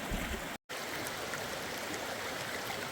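Fast stream water rushes loudly and steadily at a creek crossing on a trail after heavy rain, a dense continuous roar broken only by one very brief dropout.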